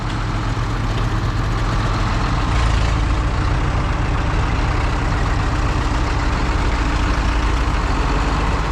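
Heavy farm vehicle engine roaring beside a silage pile, a loud continuous deep drone held at a constant level and close by, with no talk over it.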